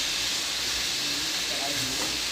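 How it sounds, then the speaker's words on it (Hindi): Mutton sizzles as it is fried in oil in a pan for a masala dish, giving a steady, moderately loud hiss with faint voices underneath. "गोश्त को मैंने तकरीबन 10 मिनट तक भूनना है।"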